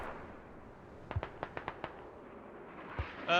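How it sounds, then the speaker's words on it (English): Hell Cannon mortar in the Squad game firing, heard as a rapid string of sharp distant pops and bangs, about seven in quick succession followed by one more, moderately faint over a quiet background. "Gets a taste of the Hell Cannon."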